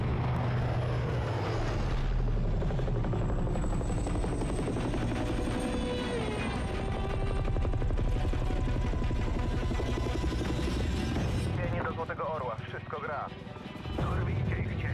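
Helicopter engine and rotor running in Call of Duty: Modern Warfare 3, a steady loud drone that holds for the whole clip under game music and radio chatter, with voices talking over it.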